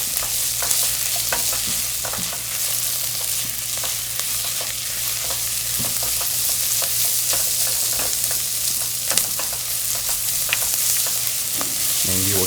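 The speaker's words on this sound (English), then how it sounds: "And you will keep on stirring" Ginger and garlic frying in a pan for long green beans, a constant close sizzle with frequent scraping taps of a utensil stirring, steady and alone without talk.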